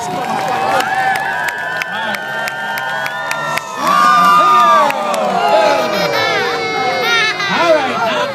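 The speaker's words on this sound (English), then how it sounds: "Send him off with a good deal of applause." A fairground crowd cheers and claps for a stunt rider at the Markham Fair, with shouts, whoops and scattered applause rising in a loud burst midway, while whistling voices and talk ring over the noise.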